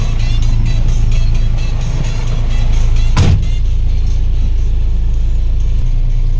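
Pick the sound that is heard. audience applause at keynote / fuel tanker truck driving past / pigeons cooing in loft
fuel tanker truck driving past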